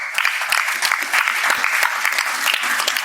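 Steady applause from a live audience at a tech podcast recording, dense and continuous clapping held at an even level for about three seconds, with no voices over it.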